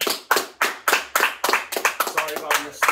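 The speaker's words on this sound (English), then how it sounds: "round of applause for the dance team" Clapping greets a dance team, heard as a handful of sharp, distinct claps in a loose rhythm from a small audience, growing quicker and softer toward the end.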